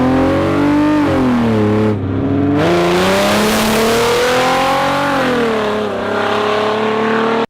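Zonda S600 replica car with an aftermarket exhaust revs loudly up and down, a steady droning engine note rising and falling in pitch with a brief dip partway through, close and alone.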